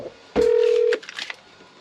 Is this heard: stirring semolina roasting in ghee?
no